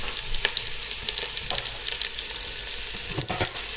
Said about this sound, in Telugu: బాగా మొత్తం కలిసిపోయేటట్టు మంచిగా కలుపుకోవాలి.